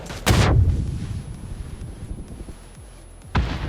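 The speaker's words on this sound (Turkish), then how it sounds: "Bir bomba daha geldi." Bomb blasts in the New State Mobile game, one loud booming explosion early then quieter rumbling and distant gunfire pops, with a second sharp blast near the end.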